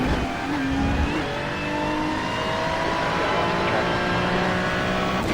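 A McLaren race car accelerates out of a corner at Spa in a racing game, its engine revving upward in a loud, rising whine with faint tire scrub and other cars droning nearby.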